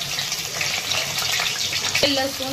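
Cumin seeds and garlic frying in hot oil for a Marathi dahi bhendi, a steady close crackling sizzle with bright spattering throughout and a brief clink near the end.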